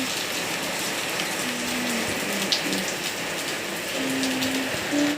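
Heavy rain falling, a steady dense patter and wash of drops on surfaces, continuous and fairly loud, with faint tonal sounds in the background and no speech.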